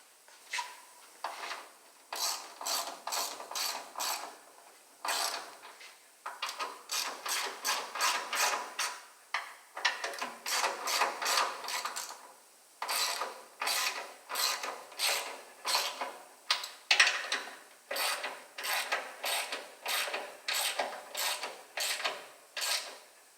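A hand ratchet tightens the front suspension bolts on a 1968 Mustang. It gives bursts of rapid, crisp clicking, close by, repeated over and over with brief pauses between strokes.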